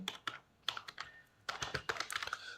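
Fingers tap on a computer keyboard while filling in an online application form, crisp close key clicks in quick irregular bursts with brief pauses between them.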